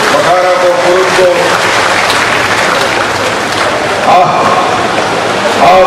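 Crowd at an Atal Vikas Yatra rally clapping with both hands raised, a dense, loud, continuous patter of applause filling the whole stretch.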